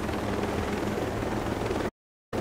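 A helicopter in Ghost Recon Breakpoint gives off a steady rotor drone and engine rumble at a moderate distance. The sound holds evenly, then cuts to silence briefly near the end before resuming.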